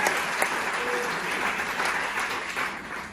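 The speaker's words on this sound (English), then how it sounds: "You guys just gave me a round of applause for my accent." A comedy-show audience claps in a dense, even burst of applause lasting a few seconds, close and loud, fading slightly at the end with no voices over it.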